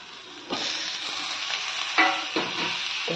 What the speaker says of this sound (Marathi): हे आता आपला कांदा भाजत आलेला आहे.